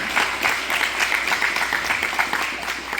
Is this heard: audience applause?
yes